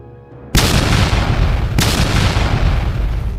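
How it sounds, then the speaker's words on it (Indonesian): Two heavy booming magic explosions crash in from a distance a second apart, broad and rumbling, leaving a dense roaring wash that lingers after each. "dari kejauhan terdengar suara ledakan sihir"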